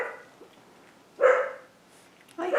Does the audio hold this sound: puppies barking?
yes